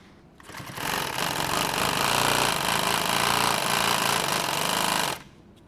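A sewing machine runs steadily for about four seconds, stitching folded nylon tactical gear back over the same seam line, a loud continuous close-up whir that starts and stops abruptly, with no talking.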